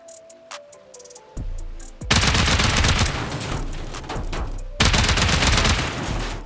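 Gunfire in the survival game Rust during a raid on an industrial base, a loud, dense burst of rapid automatic shots that stops briefly and then resumes, heard close with no talking.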